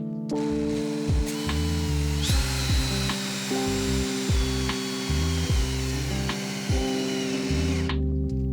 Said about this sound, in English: You know what it's time for, don't you? Right angle drill bit.